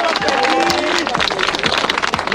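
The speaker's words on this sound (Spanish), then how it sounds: "Quiero que le den un fuerte aplauso a todos los competidores" Crowd applause and cheering for competitors at a freestyle rap battle final, a dense burst of clapping and shouting that fills the moment loudly, with a host's voice briefly heard through it.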